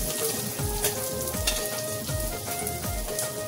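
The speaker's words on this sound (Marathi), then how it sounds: "पहिला आपल्याला चांगल्या प्रकारे कांदा मारून घ्यायचा आहे तेलावर" Onion fries in a spoonful of oil on a flat tawa, giving a steady, close sizzle with soft scraping stirs at a slow, regular pace.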